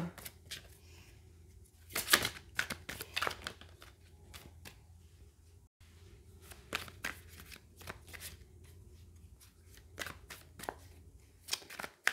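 Tarot cards are shuffled and drawn in quick, rhythmic riffles and soft slaps, close but fairly quiet, with brief pauses between bursts.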